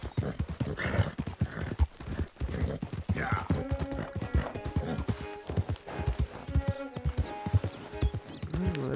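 Steady, rhythmic hoofbeats of a galloping horse in the video game Red Dead Redemption 2, loud and close, continuing throughout with a faint whinny and mechanical clatter in the mix.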